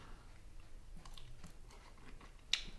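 Close, crunchy chewing of shrimp scampi with repeated crisp bites and a sharper crunch near the end, no voices.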